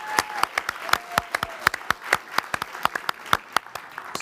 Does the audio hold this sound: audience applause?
yes